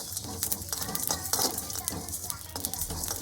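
Spices are lightly dry-fried in a pan, with a faint sizzle and repeated scraping, stirring strokes and small clinks of the utensil against the pan, close and steady.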